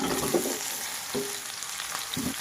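Green chillies and ridge gourd pieces sizzling in oil in a pan, a continuous bright frying hiss with a few soft clinks of a spoon against the pan.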